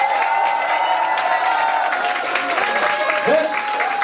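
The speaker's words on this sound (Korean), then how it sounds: "큰 박수 부탁드립니다." An audience at a broadcasting and film department special lecture gives loud, continuous applause and some cheering to welcome the guest professor, a film director, over a sustained musical tone, with a voice briefly rising near the end.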